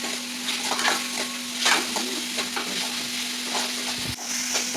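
Tomatoes going into a hot pan and being sautéed for a pepper tomato soup, a continuous sizzle with repeated stirring scrapes and clinks over a steady hum, nobody talking.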